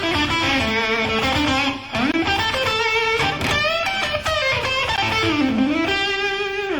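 Overdriven electric guitar runs through the A blues pentatonic scale with bends and finger vibrato, a sustained melodic line played alone and fairly loud with no talking.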